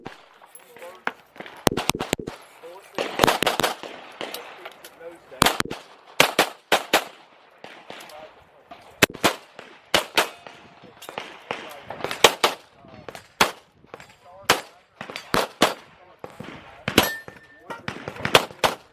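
Pistol gunfire on a stage at a USPSA sectional championship match in South Carolina, with sharp shots fired in quick strings and short pauses between groups, loud and close throughout.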